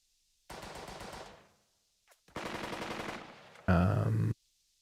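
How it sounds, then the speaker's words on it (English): Machine gun bursts in the WWII strategy game Burden of Command: two sustained rapid-fire volleys with a short pause between them, then a louder, heavier final burst, all loud and close with no talk. "Open fire with the MG."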